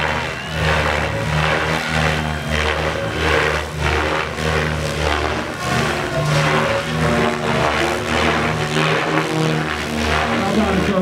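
A Goblin RC helicopter flies a demo at the IRCHA event, giving a loud, continuous rotor and motor whine that swells and dips in pitch as it maneuvers.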